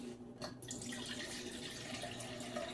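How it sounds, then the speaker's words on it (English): Water runs steadily from a tap into a pot for cooking oatmeal, a continuous splashing rush after a brief start, close and alone with no talk. "I am going to be adding 2 cups of water"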